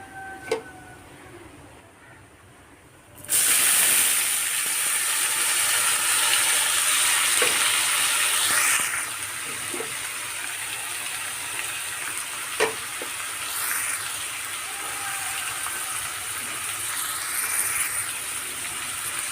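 Cabbage and curry leaves fry in a pan, a loud close sizzle that bursts in after a quiet start and holds steady, with occasional clicks of stirring.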